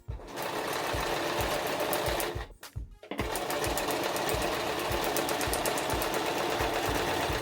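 Sewing machine stitching a disposable mask, running fast with a steady mechanical chatter, pausing briefly for about half a second midway, then resuming, close and loud with no talk.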